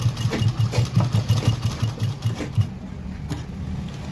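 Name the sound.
sewing machine stitching umbrella gown lining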